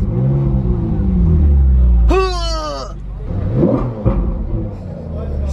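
A Ferrari 458 Spider engine revs hard in one sharp rising sweep that peaks and falls away, over a steady low engine rumble, with a voice heard before and after.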